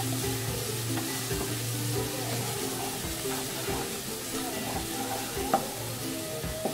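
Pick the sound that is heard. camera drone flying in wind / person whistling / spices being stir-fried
spices being stir-fried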